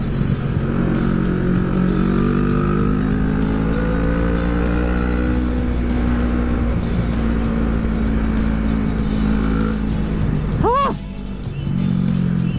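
A Kawasaki NK650 motorcycle engine pulls steadily as the bike accelerates on a ride, a loud, continuous drone with wind noise throughout and a brief dip near the end.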